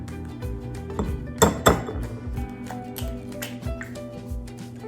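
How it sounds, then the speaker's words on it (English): Eggs cracked one after another into a bowl while making scrambled eggs, giving a few sharp close taps and clinks against the rim amid light kitchen clatter of dishes. "take 1 egg and crack it into this bowl and then do the same again"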